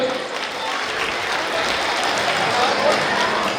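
Dense, sustained applause from an audience welcoming a guest at an event, a steady wash of many hands clapping with no break from start to finish.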